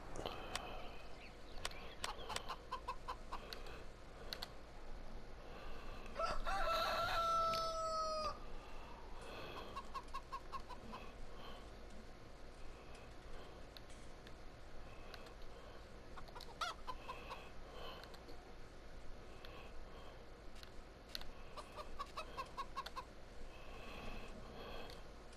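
Chickens cluck steadily nearby through a long stretch while a rooster crows once in a clear drawn-out call partway through, with no talking.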